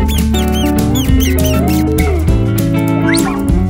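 A hamster squeaks repeatedly in short, high chirps scattered through several seconds of loud, busy music, near and fairly clear.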